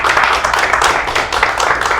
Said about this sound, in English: one last round of applause for everybody that presented.